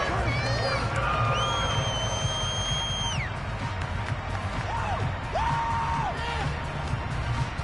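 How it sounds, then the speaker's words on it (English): A large American football crowd roars and cheers for the defense with scattered shouts and whistles, a steady wash of noise. "How about some applause for the defense there?"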